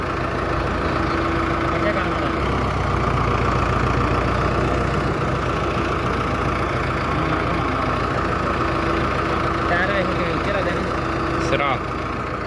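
A tractor engine idling with a steady low chugging rumble, nearby, while a person talks over it.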